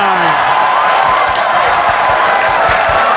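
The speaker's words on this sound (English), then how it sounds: "If you ever want to hear a crowd go wild, just fluke an 9 ball." A crowd erupts into wild cheering at a nine-ball pool match after a fluked 9 ball, a loud, continuous roar of voices and whoops with scattered claps.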